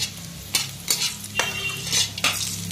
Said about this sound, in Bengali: কালো জিরে আর শুকনো লঙ্কা ফোড়ন দিয়ে দিয়েছি।